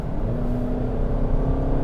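A 2024 Skoda Kodiaq plug-in hybrid SUV with a 7-speed gearbox accelerating hard at full throttle, a steady loud engine drone heard from inside the cabin with no talk.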